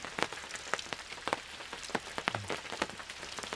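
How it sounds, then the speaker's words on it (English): Rain falls outside a vintage camper at a campground, with scattered close drips and patters over a faint steady wash, quiet and irregular, with no voices. "it is raining."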